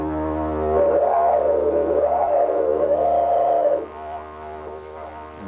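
A didgeridoo imitates the call of the brolga, a dancing bird of northern Australia: a loud, wavering vocalized tone rises and falls over a steady low drone for a few seconds, then eases back to the plain drone.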